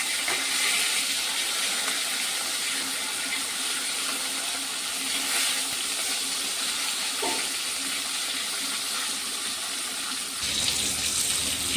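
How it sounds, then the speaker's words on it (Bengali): Fish sizzling as it fries in hot oil in a pan until reddish-brown, a steady, fairly loud hiss running through the whole stretch with no talking. "মাছগুলোকে লাল লাল করে ভেজে নিয়েছি"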